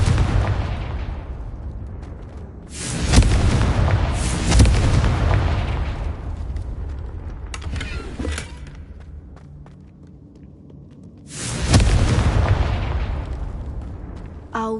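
Hogwarts Legacy Confringo blasting spell explosions: three loud, close booming blasts spaced several seconds apart, each with a crackling roar that decays over a rumbling background with faint footsteps.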